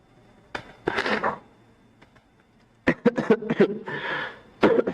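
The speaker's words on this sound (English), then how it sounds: "I have cough." A person coughs in a few short, harsh bursts with pauses between, close to the microphone in a quiet indoor setting, with faint knocks and a throat-clearing sound nearby.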